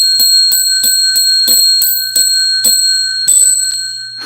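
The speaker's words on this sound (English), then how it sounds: "let's ring the bell, okay?" A bell rung by hand, struck about ten times in a steady rhythm, each loud bright ring with sustained metallic overtones decaying into the next strike, close and alone with no talk.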